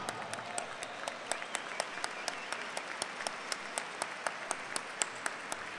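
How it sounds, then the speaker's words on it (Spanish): An audience of teachers at a provincial teaching institute panel claps in a steady, even rhythm, sharp regular beats that stay fairly quiet and continuous, with faint crowd murmur underneath. "Un aplauso."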